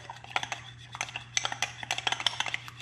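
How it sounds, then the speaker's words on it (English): A utensil stirring mayonnaise and wasabi together in a bowl, quick irregular clinks and scrapes in a busy rhythm, close and fairly quiet over a low steady hum. "Some regular wasabi. About that much. Just gonna stir it up."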